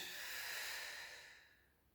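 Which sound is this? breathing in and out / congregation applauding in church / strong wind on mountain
breathing in and out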